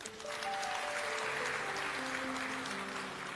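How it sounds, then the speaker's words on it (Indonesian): A church congregation applauds during a sermon, a dense, sustained wash of clapping from many hands that holds steady throughout, with faint tones beneath it. "Kita beri tepuk tangan."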